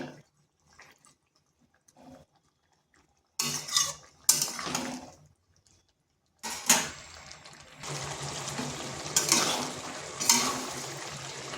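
Pumpkin stalks cooking with green chillies in a pan, with a spoon scraping and clinking against the metal in bursts, then a sustained sizzle and stirring rattle, fairly close and without talking.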